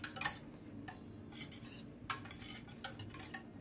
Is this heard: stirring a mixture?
yes